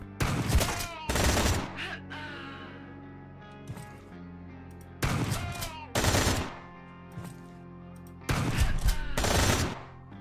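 Shotgun fire in the game Quasimorph, three clustered pairs of loud, sharp blasts spaced by quieter gaps over a low, droning ambience.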